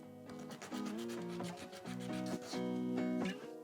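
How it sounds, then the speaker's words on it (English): Abrasive rubbing of sandpaper over small diorama pieces for a model built inside a globe, a steady back-and-forth rasp in several close, even strokes with short pauses between, no voices. "I've given these a sand now and they're looking much, much better"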